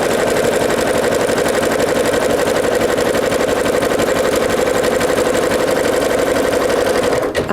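Sewing machine stitching a curve in fabric, a loud, close, continuous rapid mechanical whirr with fast even needle pulses running steadily until it stops at the end.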